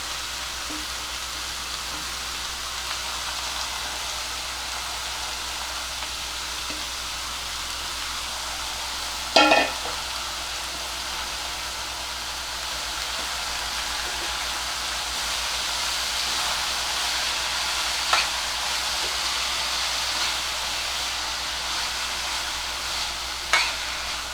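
Finely chopped, washed spinach is stirred into a hot pan of tempering with green chillies for a buttermilk spinach dish, giving a steady soft sizzle with a few brief scraping clicks and no voices.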